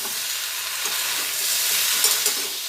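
Vegetables for a vegetarian Bengali sukto sauté in a pan with a steady, bright sizzle and a few soft stirring scrapes, close and continuous with no talking.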